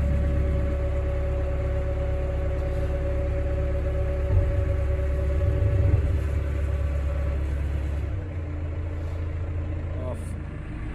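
A farm tractor engine, running a little low on oil, idles with a deep steady rumble near a cattle shed, swelling briefly then dropping to a lower drone, while speech is heard over it.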